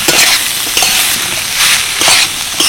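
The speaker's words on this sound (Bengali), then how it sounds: "মশলার সাথে কিন্তু থোড়টাকে খুব ভালোভাবে কষিয়ে নিতে হবে।" Banana stem, squeezed of its water, is sautéed with spices in a pan, with close, loud sizzling and rhythmic bursts of vigorous stirring and scraping.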